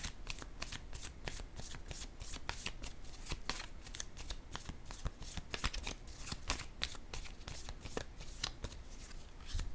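Tarot or playing cards are handled and laid down on a table in a steady run of crisp flicks, slaps and shuffling riffs, close and fairly quiet with no talk.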